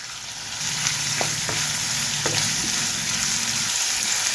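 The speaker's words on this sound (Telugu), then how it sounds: "ఎండుమిర్చి, ఒక వెల్లుల్లిపాయ కూడా వేసుకొని వేయించుకుందాము. ఉల్లిపాయలు వేగాలండి." Onions, dried red chillies and garlic fry in oil in a pan, giving a steady close sizzle with a few brief clinks and scrapes of the spoon, and no voices.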